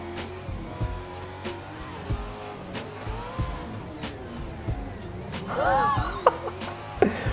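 Simulated drift car from the Aussie Drift Co pack in Assetto Corsa sliding at speed in fifth gear, with a steady engine drone and tire squeal rising toward the end, heard up close and continuous.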